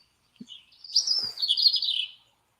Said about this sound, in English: We'll just listen to this blackbird for a few moments,